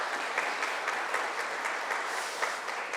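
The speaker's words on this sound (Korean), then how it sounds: "감사의 박수 한번 하겠습니다" A church congregation at a Sunday worship service gives a warm round of applause to welcome a pastor and his wife, a dense, even clapping sound that holds steady throughout.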